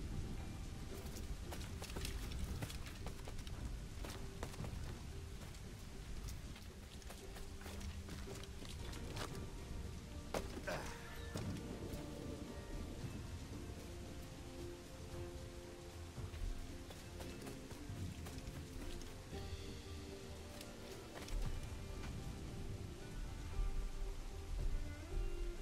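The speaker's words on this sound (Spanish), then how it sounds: "Madre mía, qué tormentaza" A thunderstorm in a video game, a dense, continuous rush of heavy rain with low rolling rumbles underneath and scattered crackling detail throughout, no talking.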